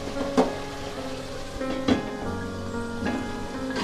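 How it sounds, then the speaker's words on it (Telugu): Tomato pieces cook under a lid in a pan, giving a soft steady sizzle with a few brief clinks and taps spaced through the short stretch. "ఆ టమాటా ముక్కలు కాస్త మెత్తబడిన దాకా ఇలాగే మగ్గించుకోవాలి."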